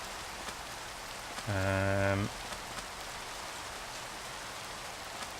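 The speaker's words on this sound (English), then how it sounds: "it's raining. Fantastic." Steady rain falls in the game Minecraft, a soft continuous hiss that runs the whole time, with a short, loud bleating animal call breaking through near the middle.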